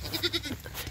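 A domestic deshi goat bleats in a quick series of three nasal calls during hand milking, close and moderately loud, followed by quieter shuffling sounds.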